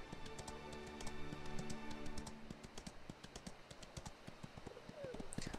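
Horse hooves run in the Ostwind video game, a quick, regular clip-clop of light taps under a person talking.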